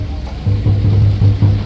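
Fishing boat racing at full throttle on the open sea, its engine droning low and steady with rushing water, the hull slapping and surging as it leaps the waves.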